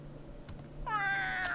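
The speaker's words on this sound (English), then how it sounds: "Cat, I've got a cat." A single clear cat meow in a video game, fairly faint, rising after a quiet moment with a low steady hum beneath.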